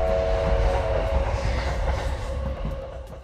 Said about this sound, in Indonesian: Lalu tak jauh terdengar suara kereta api.